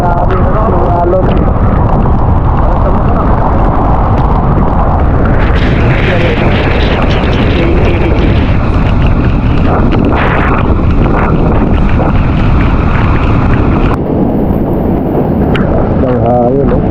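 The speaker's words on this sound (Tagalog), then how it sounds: "At napakalakas ng alon." Powerful sea waves break on a shore at Bukana, with heavy rumbling surges swelling through a loud, wind-battered roar recorded on a GoPro, while people talk in the background.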